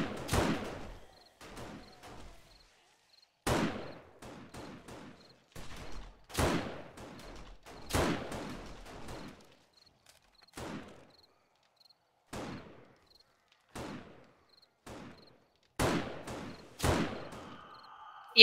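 Rifle shots ring out in the video game 7 Days to Die during a horde night, about a dozen sharp cracks spaced unevenly over the stretch, with faint insect-like chirps between them and a voice talking now and then.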